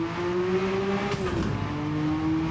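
Porsche 962C race car engine in a racing simulator game, played on a Fanatec GT DD Pro direct-drive wheel: a steady droning engine note holds close and loud throughout, shifting pitch midway as the car changes speed.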